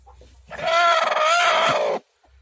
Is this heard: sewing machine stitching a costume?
no